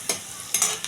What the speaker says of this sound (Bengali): ওই ভাজা তেলের মধ্যে আবার পেঁয়াজ দিয়ে পেঁয়াজটা ভাজা ভাজা করব।